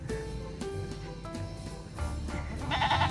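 Several goats bleat nearby in short overlapping calls, one louder cry near the end, over a background of rustling.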